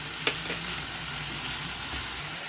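Onions and potatoes frying in a pan, a continuous close sizzle with a low steady hum beneath and one brief clink or stir stroke early on, no voices.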